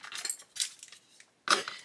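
A small plastic bag of screws for a 1:6 scale Mustang GT500 model kit is handled, giving a few short bursts of light metallic clinking and rustling, close and quiet, with gaps between them.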